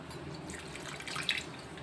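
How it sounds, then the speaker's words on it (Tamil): Water pours softly over flour dough for halwa, soaking it in a bowl, with a faint trickling and dripping splash that swells briefly and is heard alone. "தண்ணி நிறையா ஊற்றி இப்படி மூடி வச்சிடணும்"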